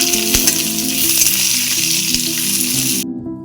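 Onion and whole spices (cinnamon, cloves and cardamom) fry in hot oil for ghugni, a loud, close, steady sizzle with soft music underneath, ending abruptly.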